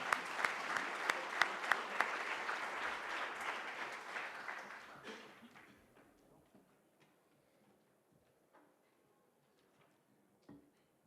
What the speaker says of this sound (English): Please give a big round of applause to our speakers.